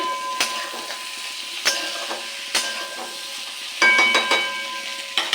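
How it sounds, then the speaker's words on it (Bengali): Potatoes fry in a wok with a steady crackling sizzle, broken by several sharp stirring scrapes and clatters at intervals. Nobody speaks. "আলুটাও হালকা ভাজা হয়ে এসছে।"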